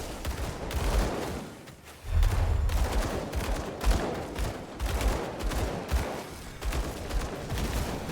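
Dual pistols firing in the action RPG Grim Dawn, a steady stream of quick shots mixed with dense combat effects and impacts, moderately loud and continuous throughout.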